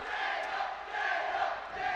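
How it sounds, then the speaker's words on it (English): A crowd at a Robocon 2023 robotics contest roars with sustained cheering, a dense, steady wash of voices from a large audience, fairly loud and continuous throughout. "the crowd is understandably overjoyed"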